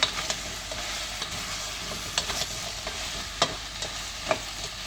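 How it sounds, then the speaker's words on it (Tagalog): Onion, tomato and garlic sauté in a pan under a soft, steady sizzle, punctuated by sharp, irregular scrapes and taps of a spatula stirring them close by. "Igisa natin siya ng bahagya guys para yung aroma ng sibuyas, kamatis, bawang malasa, mabango."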